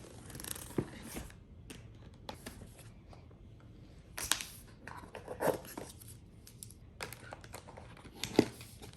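Cardboard and paper packaging of a new MacBook Pro M3 being opened by hand, with soft crinkling, tearing and sliding rustles in short bursts and a few sharper clicks, close and fairly quiet.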